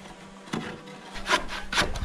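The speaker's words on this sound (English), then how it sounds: "I'm just gonna trim up this board a little bit" A wooden fly-rafter or shadow board is trimmed with a tool, giving a few short rasping, scraping bursts against quiet background noise, the strongest strokes coming near the end.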